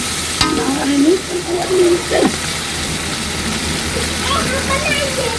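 Ginger frying in a pan as it is stirred, a steady sizzle with scraping stir strokes, close up under a voice speaking.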